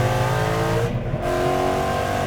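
A supercharged 2014 Ford Mustang GT with a Roush supercharger accelerates hard and loud, its pitch climbing steadily through the gears with a brief shift partway through, no voices.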